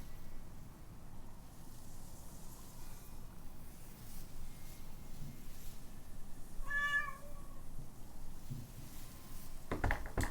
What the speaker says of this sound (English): The cat is hungry.